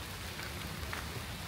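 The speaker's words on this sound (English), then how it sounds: "And it's raining as well." Rain falls steadily on a surface in Switzerland, a dense, even patter of drops with no breaks and no voices.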